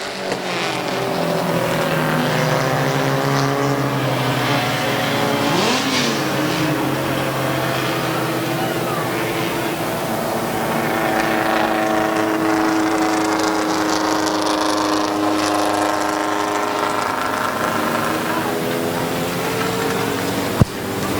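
Compact touring race cars rumble and whine around a speedway oval after a heat race, a continuous loud roar of several engines with pitch sweeping as they pass and decelerate toward the line.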